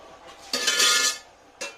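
A metal lid settles onto a cooking pot for chicken biryani, giving a bright clattering clink that rings briefly, then a second lighter tap follows a moment later. Both sounds are close and alone.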